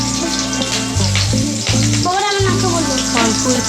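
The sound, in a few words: boiled potatoes frying in oil in a wok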